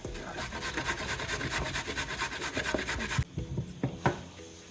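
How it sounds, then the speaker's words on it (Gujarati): Carrots scraped against a grater in fast, even back-and-forth rasping strokes for about three seconds, then a few separate scrapes and knocks, close and fairly loud. "આપણી પાસે રહેલું ગાજર, એને આપણે છીણી લઈશું."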